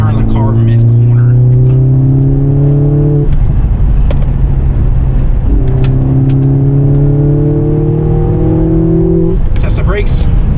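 A 2022 Mercedes-AMG GLA45 in race mode, its engine loudly climbing through revs twice with a gear-change break between, punctuated by crackles and pops from the exhaust; a voice talks over it.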